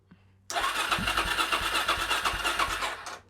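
A Suzuki DRZ400SM motorcycle engine under restoration cranks with a rhythmic chugging starter beat, about ten evenly spaced pulses over a loud whirring drone, without catching.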